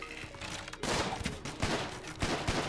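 Turrets firing in RimWorld, a rapid, dense fusillade of gunshots in quick irregular bursts, fairly quiet and without speech.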